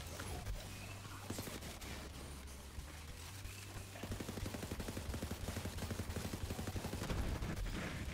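Rapid gunfire from Recursion and Monarch weapons in the Borderlands video game, dense bursts of automatic shots layered over game noise, becoming a steady rattling stream in the second half.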